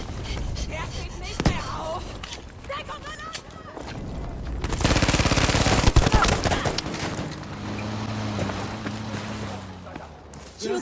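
ZK-383 submachine gun fire in Battlefield 5, heard as scattered shots early on and then a dense, loud burst of rapid automatic fire in the middle, with general battle noise and mechanical clatter around it.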